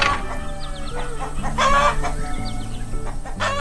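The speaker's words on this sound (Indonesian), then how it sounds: "Ayam-ayam ini sangat disiplin ya." Cartoon chickens boarding a truck cluck and squawk in busy, overlapping calls, with a brief crow-like cry, set against a continuous musical background.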